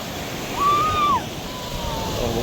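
Surf at Baler, Aurora rolls in a steady, moderately loud wash, with a brief high voice-like tone rising over the water partway through.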